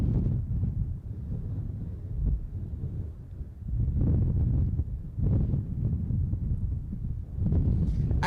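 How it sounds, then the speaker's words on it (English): Gusty wind buffeting the microphone outdoors at a cold planespotting spot near an airport runway, a steady low rumble swelling in repeated loud surges with no voices. "I'm turning this way so that way the wind isn't that bad."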